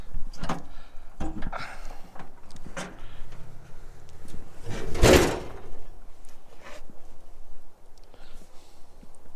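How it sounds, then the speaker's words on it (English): Rear doors of a Ford Bronco being opened, with several sharp latch clunks and thumps near the start and a louder rattling bang around the middle, set against quiet outdoor background noise. "get the doors open"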